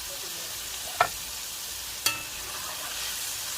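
Shrimp frying in a pan, a steady loud hiss of sizzling oil throughout, broken by two sharp clicks of a utensil about a second apart.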